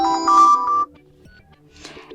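A short alarm tone preview plays from a Cubot King Kong Mini 3 phone, a bright melodic chime that stops abruptly, followed by a quieter second snippet of tone near the end.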